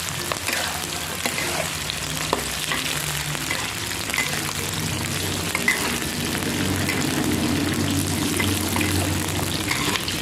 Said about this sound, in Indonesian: kita goreng kacang panjangnya selayang ya